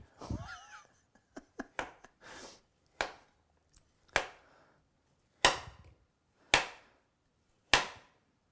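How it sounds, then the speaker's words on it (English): A kitchen knife chops through a partly frozen Trader Joe's soy product on a cutting board, giving about ten sharp, crisp cuts: a quick irregular cluster first, then slower strokes spaced about a second apart. "I recommend cutting them a little thin so they get crispy."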